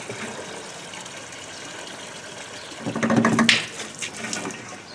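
Water pours into a 20-litre lawn treatment sprayer tank, a soft steady rush that swells louder for a second or two midway, then settles back to a low trickle.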